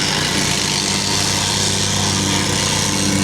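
A plate compactor works a Type 1 sub-base for a workshop floor, its small engine droning in a loud, steady, unbroken rumble close by throughout, with no talking.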